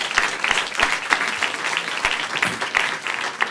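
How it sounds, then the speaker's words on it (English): Steady applause from a summit audience for speakers, a dense patter of many hands clapping continuously throughout. "Another round of applause for our great speakers."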